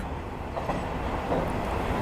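Train rumbling across a bridge over the Muak Lek canal near Muak Lek station in Thailand, a dense, steady rolling roar with faint wheel clatter, close and continuous throughout.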